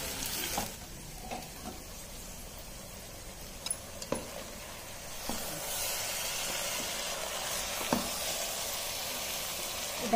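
Onions fry in hot oil for chicken dum biryani, a dense continuous sizzle with intermittent stirring knocks and scrapes, close and steady, no talking.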